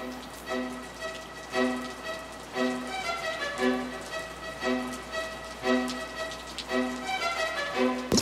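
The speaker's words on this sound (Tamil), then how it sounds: "ஐயோ மழை ஆரம்பிச்சிருச்சு." Rain beginning to fall in a Tamil children's animated film, heard as a steady patter of drops with soft ticking over a tonal musical background, moderately loud and without speech.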